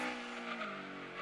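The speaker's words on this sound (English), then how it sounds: "the sound of this Lancia Stratos is beautiful" A Lancia Stratos engine in the racing video game Gran Turismo 2, a sustained high revving drone with layered harmonics, steady and fairly close, with no talk.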